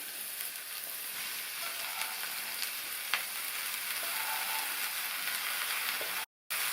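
Cut stem amaranth greens sauté in a frying pan with a loud, even sizzle that barely changes. A faint stir scrape breaks in once, then a brief silent gap comes near the end.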